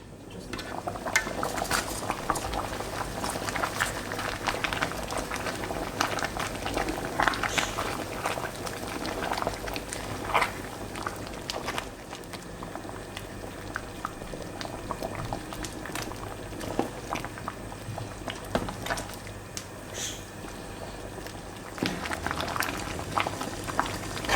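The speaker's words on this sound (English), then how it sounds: "Now we've added our palm oil. Let's cover this pot and cook this for 5 minutes." Oha soup with palm oil bubbling in a covered pot, a steady close simmering burble with occasional light clinks of metal cookware scattered through.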